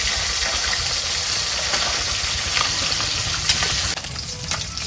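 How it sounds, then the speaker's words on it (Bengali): Small fish, including puti, frying in oil in a kadai, giving a continuous dense sizzle and crackle, fairly close and steady, with occasional stirring scrapes and no talk. "কড়াইতে মাছ দেওয়া হয়ে গেছে, যে মাছগুলো ভাজা হচ্ছে"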